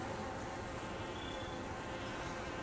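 A dense, continuous buzz of many honey bees in a full, open hive ahead of winter, close up and steady throughout.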